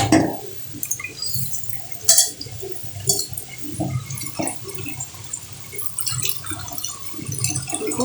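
Water splashing and running while tomatoes are washed, a close, continuous trickle with knocks and sloshes against a container, moderately loud and without talking.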